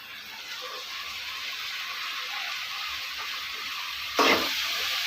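Chopped onion and cleaned, cut banana flower fry in a pan with a steady, soft sizzle and hiss, broken near the end by a brief louder scrape or stir.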